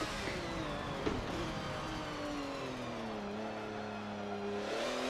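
Porsche racing car engine in the video game Forza Motorsport 7, revving and accelerating steadily with rising and falling harmonic tones, loud and continuous, with a brief tire squeal near the start.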